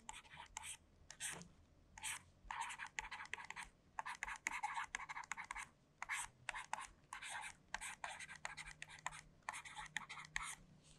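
A pen scratches out a maths solution in quick bursts of short strokes separated by brief pauses, close and fairly quiet, with faint voice traces underneath.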